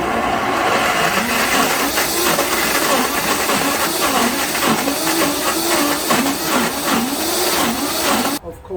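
A blender runs steadily and loudly for about eight seconds, grinding pimento into coconut jelly with a dense, whirring roar before cutting off abruptly at the end.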